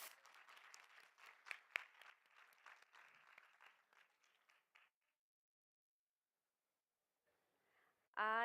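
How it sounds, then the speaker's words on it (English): Audience clapping for an award presenter at the IRENA NewGen Rising Stars Award, steady applause for about five seconds that fades into silence, then a voice starts at the end. "Another round of applause for Augusto"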